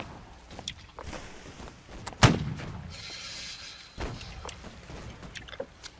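A naval cannon fires in the video game Holdfast during a sea battle, one sharp loud boom with a short rumbling tail, followed by a softer thud amid faint background clatter.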